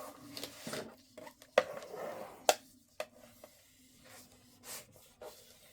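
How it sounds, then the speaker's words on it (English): A folded paper tab on a scrapbook album is burnished by hand, giving soft close rubbing and scraping strokes broken by a few sharp taps and clicks. "I'm going to go over inside and give that a good burnish."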